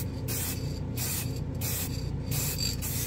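A hobby matt clear spray can spraying in several short bursts, each a close, steady hiss separated by brief pauses, with no talking.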